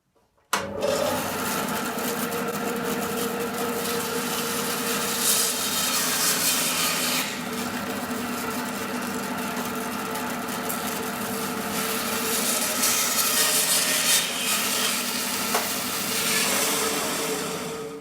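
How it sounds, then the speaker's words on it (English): A bandsaw cuts steadily through a wooden endgrain bowl blank, a loud continuous rasping whine held for many seconds with slight shifts in pitch as the blade works, then a brief tail-off at the end. "I don't have a foot brake on this bandsaw, so I jam the blade to a halt."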